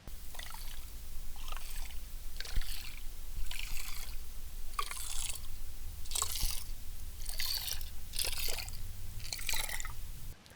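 Whopper Plopper topwater fishing lure worked with a start-stop retrieve, recorded underwater: about nine loud bursts of bright churning splash and clatter come in a regular rhythm, each separated by a brief lull, over a steady low water rumble.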